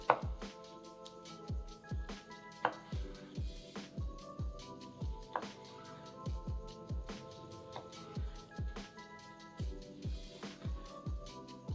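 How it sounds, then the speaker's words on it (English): A knife cuts through a cooked, medium-rare sirloin steak with a steady run of soft, close thuds against the board, spaced about half a second apart, over faint tonal background sound. "I'm just going to start to cut the steak"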